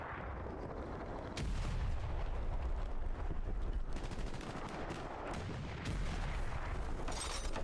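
Dense, sustained gunfire rattles through a competitive tactical shooter match, loud bursts and booming reports piling on each other with little pause over several seconds, with no voices over it.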